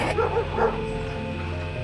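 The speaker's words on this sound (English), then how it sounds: "What's happening with those dogs?" Dogs bark and yip a few times in an audio drama scene, set slightly distant outdoors, over a steady low background hum.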